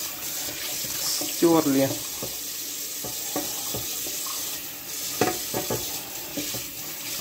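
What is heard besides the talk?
running water from a tap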